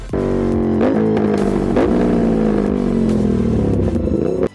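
An Aprilia RS 457 motorcycle fitted with an aftermarket exhaust revs loudly and steadily at close range, with the engine note rising and falling through a few throttle blips and no talk over it.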